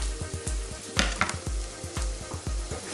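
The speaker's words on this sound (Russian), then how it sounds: "Что у меня там лучок жарится" Onion sizzling and frying in a pan, with a steady hiss and repeated low thuds of stirring or knife work in a home kitchen while preparing a zucchini and chicken casserole.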